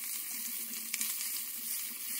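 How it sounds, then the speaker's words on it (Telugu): Cut brinjal pieces fry in hot oil in a kadai, giving a steady, fairly quiet hiss and crackle with one brief sharper pop, and no voices. "కడాయి పెట్టుకొని కడాయిలో నూనె వేసుకోవాలి. నూనె వేసుకున్న తర్వాత నూనె వేడైన తర్వాత మనం కట్ చేసి పెట్టుకున్న వంకాయలను కూడా వేసుకొని"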